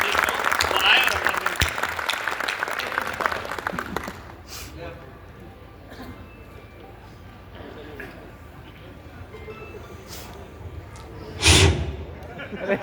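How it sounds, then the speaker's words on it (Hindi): Audience applause at a Rajasthani poetry recital in Navi Mumbai as a poet is welcomed, loud clapping for the first few seconds that then fades, leaving a quieter room with a few scattered claps and thumps. "जरा जोरदार तालियों से डॉक्टर लोकेश जरिया को आमंत्रित करो"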